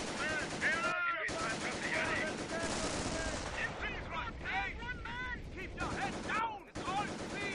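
Machine gun fire in the real-time strategy game Company of Heroes, rapid bursts of gunfire with distant explosions and whistling shells amid battle noise, moderately loud, with some voices mixed in.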